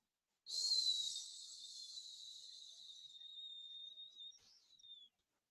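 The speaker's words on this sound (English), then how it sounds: "when we exhale with our lips slightly puckered and as if a tire is deflating" A long, steady breathy exhale through pursed lips, hissing and slightly whistling, fading out after about four seconds with no talking.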